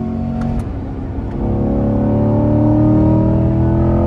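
Chevrolet C8 Corvette accelerating hard on a race track, a loud, steady engine note climbing in pitch from close by, with no speech.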